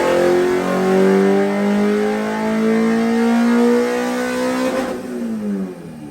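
A Honda B16A car engine revving hard on a dynamometer run, climbing steadily in pitch with a loud sustained whine before the throttle lifts and the note falls away near the end.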